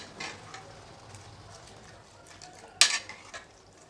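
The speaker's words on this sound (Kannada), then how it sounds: "ಇವಾಗ ಚೆನ್ನಾಗಿ ಇದನ್ನು ಮಿಕ್ಸ್ ಮಾಡ್ಕೊಬೇಕು." Palak spinach stems and two green chillies are stirred in a pressure cooker, with quiet scraping and one sharp metallic clink of utensil against pot near the end.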